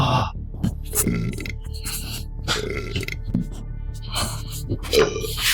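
A man with three years of GERD burps repeatedly, with loud, throaty belches and grunting noises and gasps between them, close to the listener.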